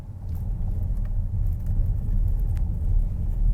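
Steady low engine and road rumble from inside a BMW electric car, with faint knocks and creaks as it rolls over a bumpy road.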